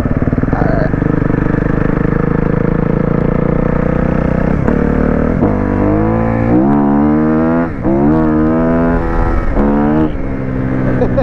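A 2021 Suzuki RM-Z250 dirt bike being ridden along a quiet dirt road, its engine loud and close throughout, buzzing steadily and then revving up and down in several rising bursts toward the end.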